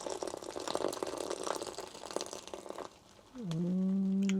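Boiled water is poured from a small container into a chicken fried rice meal pouch at a Grand Canyon campsite. A short, close, quiet stream fills the pouch and rises in pitch after a softer stretch of outdoor noise.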